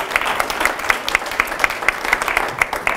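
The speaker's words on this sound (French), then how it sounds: "Madame Caroline Goffin, que je vous prie d'applaudir chaleureusement." A seated audience applauds warmly after a speaker is introduced at an event, a full, fairly loud crowd clapping with a steady rhythmic pulse running through the whole stretch.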